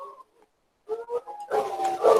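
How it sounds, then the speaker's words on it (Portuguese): Dogs howl in the distance, with drawn-out, wavering tonal cries that start faint and grow louder and more layered as more voices join. "Olha, gente, os cachorros estão uivando aqui."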